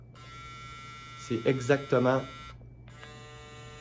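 An Uxorgo hair clipper with a magnetic motor runs with a steady electric hum. The hum continues under a short stretch of French speech and cuts out briefly before starting again.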